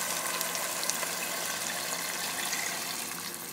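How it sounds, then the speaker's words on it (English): Beef broth pours steadily into a soup pot for meatball Parmesan soup, a continuous close gushing splash with no break. "We are going to add in our beef broth."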